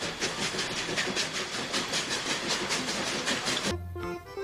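A toy train locomotive runs with a steady rhythmic clatter and hiss at close range, then cuts off near the end into a brief tonal whirring.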